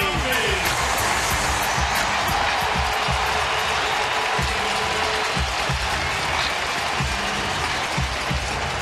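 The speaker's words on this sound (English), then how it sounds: "So nice applause for Giambi." Continuous crowd applause and cheering fills a large open baseball stadium at the Athletics' 2009 home opener, steady and dense throughout with no pause.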